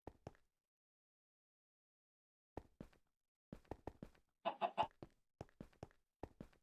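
A Minecraft chicken in the GTNH modpack gives short, sharp clucks in scattered bursts, with a longer squawking cluster near the end. The clucks are clean and close, with silence between them.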